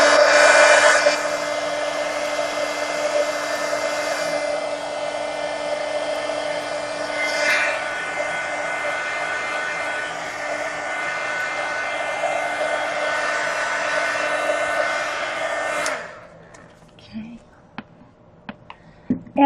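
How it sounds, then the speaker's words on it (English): A heat gun drying a mixed media art journal page blows with a steady whirring whine for about sixteen seconds, then cuts off, leaving a few small clicks and handling noises. "let me hit the whole thing with the heat gun now"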